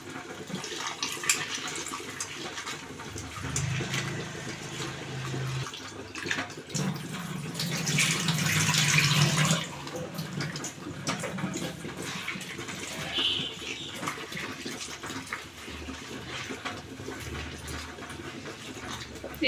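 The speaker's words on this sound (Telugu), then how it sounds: "కడిగేస్తాను శుభ్రంగా కడుక్కోవాలి" Dried shrimp being rinsed clean under a running tap, a steady splash of water into a bowl that swells briefly in the middle before settling back to a constant trickle, with no talking.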